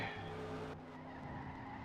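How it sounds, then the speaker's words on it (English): Tires skid and squeal in a three-car wreck at Las Vegas Motor Speedway in a racing video game, with engine roar under the loud, continuous screech and a sharp shift partway through. "Starts a 3-car wreck"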